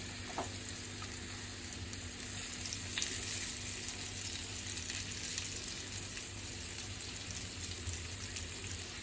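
Black creek fish fry in oil in a pan, giving a steady, soft sizzle dotted with small crackles and pops throughout. Nobody talks.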